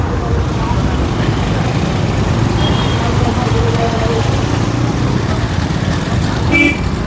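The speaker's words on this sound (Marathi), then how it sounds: "ट्रॅफिक झाली आहे बरीच ट्रॅफिक झाली" Heavy road traffic near a barricaded entry with police presence and parked motorcycles: a loud, continuous roar of engines and tyres with a brief horn toot near the end, while people talk over it.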